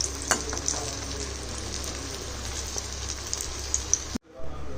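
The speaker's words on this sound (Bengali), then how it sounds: "যেহেতু তেলটা এখন গরম হয়ে গেছে, এখন আর নিচে বেশিক্ষণ সহজেই এটা উল্টেও দিতে পারলাম, কিন্তু আমি একটা একটা করেই ভাজছি।" Pieces frying one at a time in hot oil in a pan, giving a steady close crackling sizzle with scattered pops, cut off abruptly near the end before a brief quieter return.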